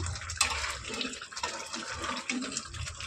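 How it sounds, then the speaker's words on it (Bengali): Water runs and pours into a cooking pan for a vegetarian potol curry gravy, a continuous soft splashing trickle heard close. "দেখো আমি এখানে অল্প করে জল দিয়ে দিয়েছি গ্রেভির জন্য।"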